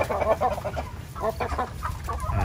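Native chickens cluck in a rapid, close run of clucks and low chatter on a provincial farm, heard with no talking.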